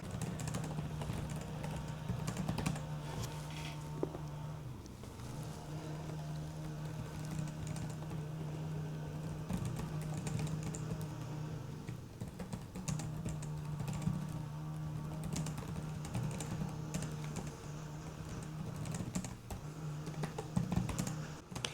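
Soft, steady typing on the keyboard of a 2026 Lenovo ThinkPad X9 15p Aura Edition laptop, quiet snappy keystrokes continuing throughout over a low background hum.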